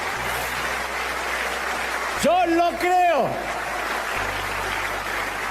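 A church congregation applauds in worship, a steady wash of clapping that fills the room while a voice briefly speaks over it.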